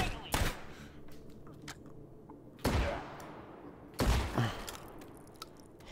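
Three loud, separate gunshots ring out in the video game Hot Dogs, Horseshoes & Hand Grenades, spaced a second or more apart over quieter background noise.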